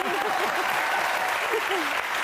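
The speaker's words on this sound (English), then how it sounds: "You can applaud." Steady applause from a television studio audience fills the whole stretch, with a voice speaking over the clapping.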